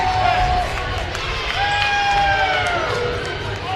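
A women's college basketball crowd at Benedictine vs. Aurora roars after a made three-pointer, a loud, dense cheer filling the gym, with a public-address voice and whistles faintly layered on top.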